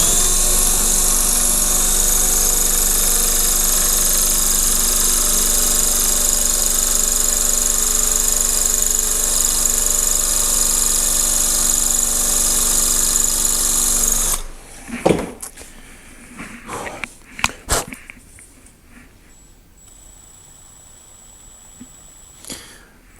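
Power drill with a Tool Shop titanium twist bit boring into material, a loud continuous whine for about fourteen seconds, then stopping, followed by scattered knocks and handling sounds.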